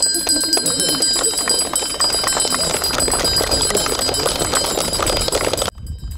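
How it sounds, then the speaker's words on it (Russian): Traditional last school bell ringing loudly and continuously for several seconds at a school farewell ceremony, a bright metallic ring over crowd noise, stopping abruptly near the end. "Традиционный символ прощания с детством – последний звонок."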